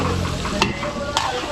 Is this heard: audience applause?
no